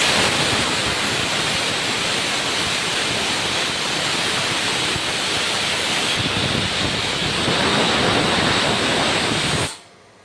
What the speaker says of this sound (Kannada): ಬ್ರೈನ್ ಹಾಕಿದ್ದೀನಿ ಕುದೀತಾ ಇದೆ